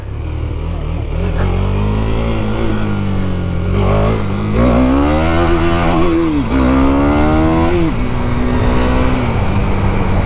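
A KTM 390 Duke single-cylinder sport bike revving close and loud, its engine note dipping and then climbing sharply through several throttle blips before settling back.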